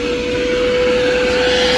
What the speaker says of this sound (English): I'm gonna turn on my vacuum.